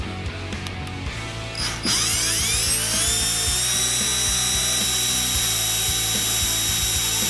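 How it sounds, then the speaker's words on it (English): An electric drill spins up with a rising whine and then grinds steadily at high speed, drilling holes in metal brackets, loud and close, over a rattling mechanical background. "I'm drilling holes in the brackets I made to mount my reservoir bottle."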